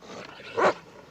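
A dog gives a single short, close bark over a low background hiss.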